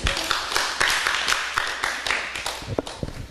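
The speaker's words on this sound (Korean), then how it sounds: "박수 한번 치주세요" A congregation claps during a church service, a loose burst of individual hand claps with sharp, uneven slaps spread across a few seconds, moderately close and loud.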